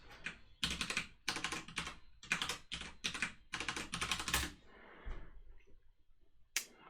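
Computer keyboard typing in bursts of fast clacking keystrokes, including a Control and Delete key combination, close and clear with short pauses between bursts and a final isolated keypress.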